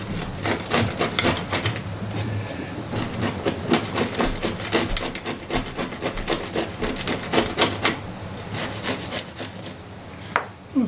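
Steady scraping and rasping as white-glue-set ballast is scraped off model railway track, a continuous gritty scratching with dense rhythmic strokes, close and loud throughout.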